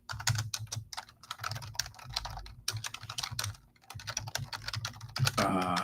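Rapid typing on a computer keyboard, close and fairly loud, with continuous bursts of clicky keystrokes and brief pauses between runs.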